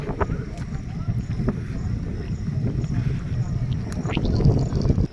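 A boat moves across the water in the Sundarbans with a low, rumbling wash and gusty wind buffeting the microphone, while people talk nearby.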